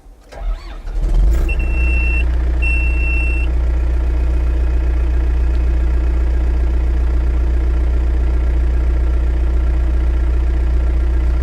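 A bulldozer's heavy diesel engine cranks and catches, then settles into a loud, steady idle with a deep rumble; a brief high beeping sounds early on.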